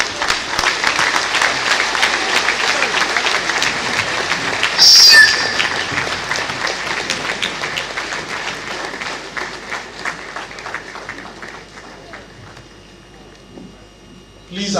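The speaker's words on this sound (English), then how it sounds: "Please, another round of applause for our special guest of honor." An audience at an induction ceremony for new members applauds a guest of honor, a sustained, fairly loud patter of clapping that gradually thins and fades over about twelve seconds.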